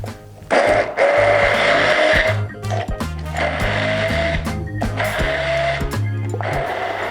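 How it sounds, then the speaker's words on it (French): A kitchen blender purées cooked white beans with cream for vegan chocolate fondants, a loud steady whirring motor that surges and dips in pitch as it runs in long bursts, with brief pauses between runs. "Alors on prend vraiment le temps de mixer bien finement cette purée de haricots."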